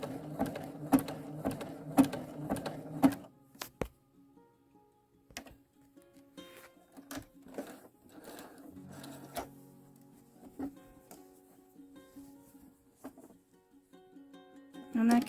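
A domestic sewing machine set to zigzag stitches linen fabric, its rapid mechanical whirring coming in bursts and short pauses, loud and close at first, then quieter, intermittent runs with clicks and handling noises.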